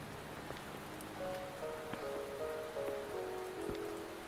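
Rain falls in the Wuthering Waves video game, a soft, constant patter on surfaces with occasional sharper drips, faint and steady beneath quiet sustained musical tones, with no talking.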